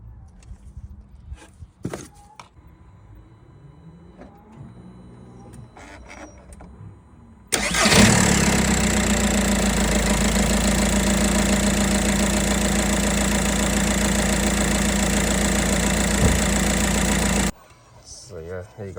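A VW Caddy 1.9 TDI BLS diesel engine cranks and catches, then settles into a loud, steady clattering idle that runs for about ten seconds before cutting off, with quieter workshop handling sounds before it.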